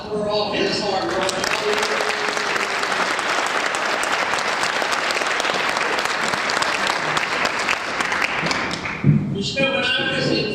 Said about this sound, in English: I think you want to give Jeff an applause for all his hard work